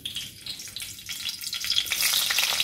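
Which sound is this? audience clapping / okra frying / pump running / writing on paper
okra frying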